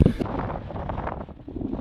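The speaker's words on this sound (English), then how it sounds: "It is so windy out" Strong wind buffets the microphone at a campsite in Colorado near Dinosaur National Monument, in a steady roar with gusty rumbling, loud and continuous throughout.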